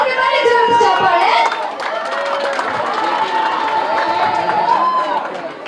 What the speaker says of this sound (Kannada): ಅವ್ರಿಗೆ ಬನ್ನಿ ಜೋರು ಚಪ್ಪಾಳೆ